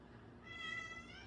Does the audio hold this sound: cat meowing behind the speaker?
yes